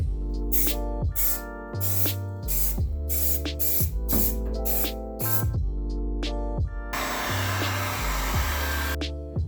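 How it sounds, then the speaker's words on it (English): Spray paint hisses onto the surface of a 1960 Cavalier CS 64-C Coke machine during restoration, in short repeated bursts and then a longer steady blast near the end, with background music throughout. "Now I have to paint the machine surface too."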